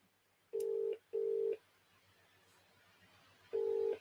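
A phone places a call: two short beeping tones back to back, a pause, then another matching beep, clean and close against a quiet background.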